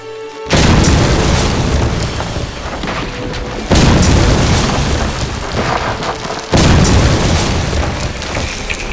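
Loud explosion blasts from a kids' movie trailer come as three abrupt heavy booms, each hitting suddenly and then rumbling on at a high level until the next.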